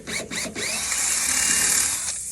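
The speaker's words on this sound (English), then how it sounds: "Again, 5/32 drill bit, okay?" A power drill with a 5/32 bit whines steadily at high pitch, briefly stuttering at the start before grinding continuously into a truck tire's rubber at a slow leak, loud and close, with no talking.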